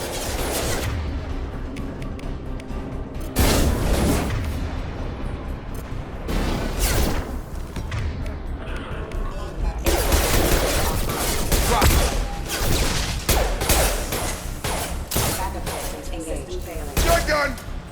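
A Mass Effect 2 battle rages with dense rapid gunfire and heavy explosive bursts, loud and continuous throughout, while characters talk over the combat.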